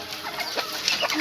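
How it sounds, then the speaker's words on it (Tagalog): Turkeys and ducks being fed on a provincial farm give short, close bursts of clucking and squawking calls, with no talk. "nagpapakain na kami ng pabo pato"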